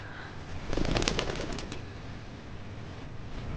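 Young pigeons coo on a rooftop loft, a soft burst of low cooing and fluttery calls near the start that fades into quiet background hiss.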